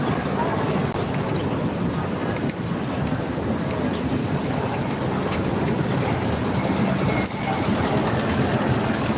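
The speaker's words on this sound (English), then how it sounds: "This is the 160th Street subway station, right?" Subway train at the 160th Street station in Washington Heights, New York City, a loud continuous rumble and rattle of the train with wind-like roar and occasional clicks, close and steady throughout.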